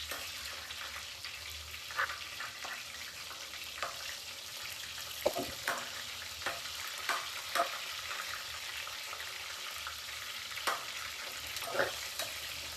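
Sliced onion frying in a pan for chicken curry, a steady close sizzle and crackle with scattered sharp pops and stirring scrapes throughout, no voices.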